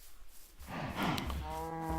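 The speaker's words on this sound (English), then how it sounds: "yes, you are so noisy, cows" Cows on a farm letting out a loud, drawn-out moo up close, the low call swelling and then holding a tonal note to the end.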